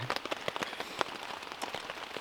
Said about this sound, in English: as you can probably hear, it's raining a little bit.